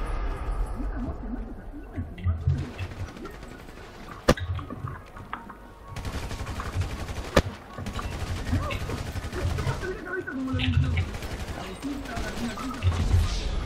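Rapid gunfire from the video game Grand Theft Auto V Online, with bursts of automatic shots and a few sharp single cracks running through a busy, dense mix, loud and continuous throughout.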